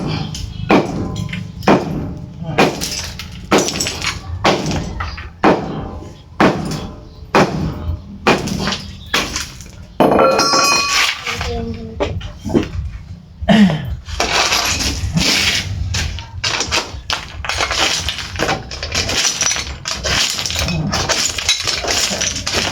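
A hammer breaks up kitchen floor tiles in a house with repeated sharp cracking and clinking blows, steady and loud throughout, with a brief pause and scraping in the middle.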